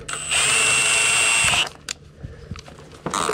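A cordless drill whirs steadily for over a second while twisting ground wires together inside an electrical panel, then stops, followed by faint clicks and handling noises before a second short burst of drilling at the end.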